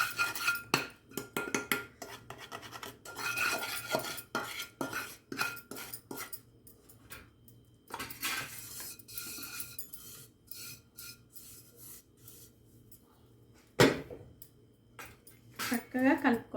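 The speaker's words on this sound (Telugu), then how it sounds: "ఈ షుగర్ ఇవంతా అన్నీ కలిసేటట్టుగా కలుపుకోవాలి." A spoon scrapes and rasps through roasted semolina and sugar in a metal bowl, an intermittent gritty stirring with clinks, quiet and close, broken by pauses and a few speech-like sounds.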